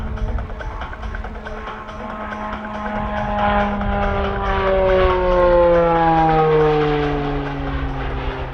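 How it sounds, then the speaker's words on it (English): A turboprop aircraft passes at an airshow, its loud propeller drone rising and then falling in pitch as it sweeps by, swelling to a peak midway. "Out of those turboprop aircraft, the very tips of the blade pointing into the air at the supersonic speed gives you that nice, sweet sound."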